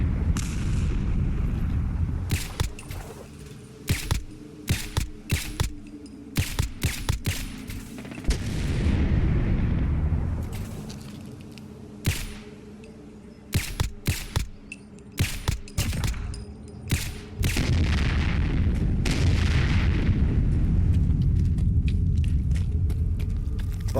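Heavy explosions and booming rumble from Fallout 4 gameplay: repeated loud blasts and crackling bursts, some in quick clusters, with sustained low rumbling between them and no talk.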